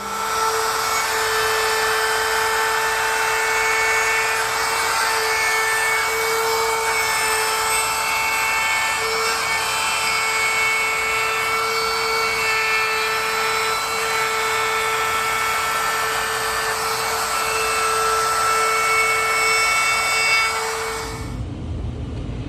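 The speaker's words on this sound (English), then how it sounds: "You drill a 1/8 inch hole as your center point, and we will take care of that right now." A power drill whines steadily at a high, constant pitch for about twenty seconds, loud and close, drilling a 1/8 inch hole in reclaimed wood, then cuts off abruptly.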